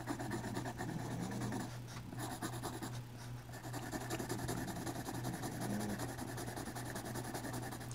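A pencil shades the inside of a lemon wedge drawn on paper, giving a steady, soft scratchy rubbing that runs continuously over a low background hum, with no talk.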